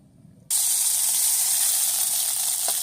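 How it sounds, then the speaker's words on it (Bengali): Paneer hits hot oil in a pan and starts frying with a sudden strong sizzle that settles into a steady, loud hiss, no voices heard. "পনিরটা আমি হালকা করে একটু ভেজে নেবো আগে"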